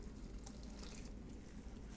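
Excess water being poured out of a plant pot during indoor plant watering, a steady continuous trickle and splash running throughout, fairly faint and close.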